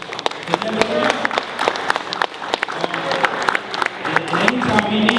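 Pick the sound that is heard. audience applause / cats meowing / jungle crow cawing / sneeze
audience applause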